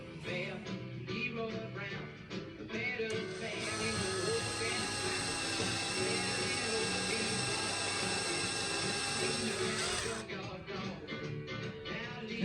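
A handheld power drill revs up and then holds a steady high whine for several seconds before winding down, with clattering workshop handling noise around it.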